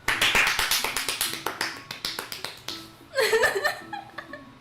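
A group claps during cupcake decorating, uneven overlapping claps and taps, then a burst of cheering voices joins near the end.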